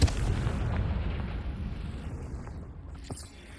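A Confringo fire spell explodes in Hogwarts Legacy, opening with a low boom that settles into a long, fading rumble, faint and with no one talking.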